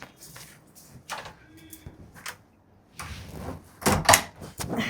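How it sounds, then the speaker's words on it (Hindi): An indoor door is shut in a home, with several knocking and rattling bumps of varying loudness, the strongest thumps clustered near the end. "दरवाजा भी बंद कर दिया आप"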